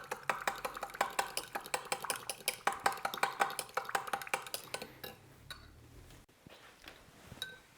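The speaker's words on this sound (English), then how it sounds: "I'm going to just mix this really thoroughly with a fork." Vinaigrette mixed thoroughly with a fork in a bowl for an arugula, avocado and tomato salad: rapid regular clinking taps of metal on the bowl for about five seconds, close, then stopping into quieter scattered sounds.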